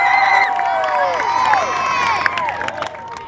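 A crowd cheers and claps at an alligator wrestling show featuring an 8-foot, 180-pound alligator, with steady close applause, whoops and shouts running through the whole stretch and fading slightly toward the end.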